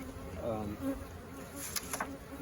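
Honeybees hum at a small hive in a steady low drone close by, with a few brief higher whines as individuals fly past.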